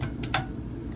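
Bottom drawer of an Airstream trailer opening downward, giving two quick light clicks in quick succession against a steady low background hum.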